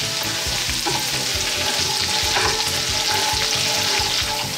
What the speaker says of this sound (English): To the oil, I'm adding 1 ounce chopped garlic.